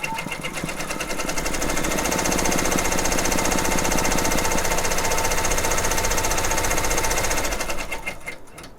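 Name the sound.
embroidery machine stitching out a satin stitch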